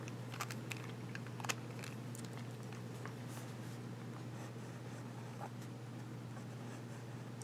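A Fountain Pen Revolution fountain pen with a broad nib scratches and glides across paper in soft, continuous strokes, with a few brief sharper ticks over a steady low hum.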